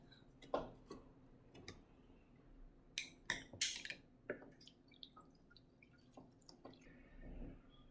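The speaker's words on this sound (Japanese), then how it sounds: "こういう元気な壺には、中にお湯を入れてあげます。" Hot water poured into the pitcher of a Nepenthes alata plant, heard as faint, sparse drips and light splashes with small taps, quiet and close, ending in a soft pouring trickle.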